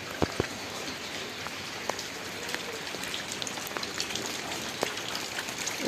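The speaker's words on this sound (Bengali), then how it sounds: "বৃষ্টি পড়তেছে, বৃষ্টিতে বাইরে বেরিয়েছে।" Rain falls steadily outdoors during heavy rain that has flooded a nearby road, with a dense soft patter and scattered sharper drops striking surfaces.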